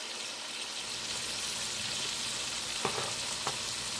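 Rough-cut cabbage and onions frying in a pan, a constant close hiss of sizzling oil with a couple of brief clicks of a utensil near the end and no talking.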